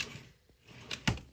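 Craft-room drawers are handled with a few scattered wooden knocks and a sharper final thud as one slides shut, close by in a quiet room.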